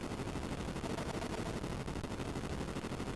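Rapid helicopter machine-gun fire from the Atari 7800 game Super Huey, a dense, continuous rattle of quick shots running without a break at moderate level.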